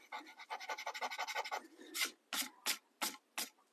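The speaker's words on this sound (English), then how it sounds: "if I take this mono sand eraser and gently and carefully" A Tombow Mono sand eraser rubs at pink ink on paper, first in a quick run of short rhythmic scrubbing strokes, then in several slower, louder separate rasps, close and clear with no voices.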